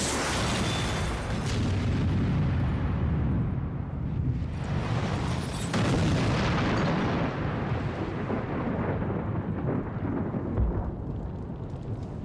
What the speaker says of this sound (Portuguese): Finalmente tivemos uma combustão bem forte,